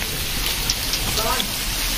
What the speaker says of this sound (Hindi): ओहो वाओ क्या बारिश हो रही है पाजी